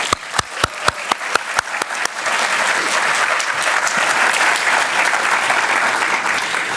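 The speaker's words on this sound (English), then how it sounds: "one more round of applause for everyone" Audience applause at the finals of a three-minute thesis competition, opening with a few sharp, separate claps that swell after about two seconds into a loud, steady wash of clapping from the whole crowd.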